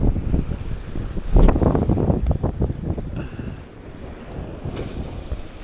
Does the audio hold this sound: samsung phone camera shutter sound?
no